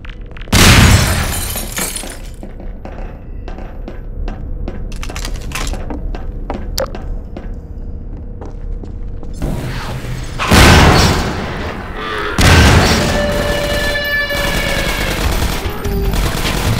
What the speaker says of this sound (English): It's got a grenade!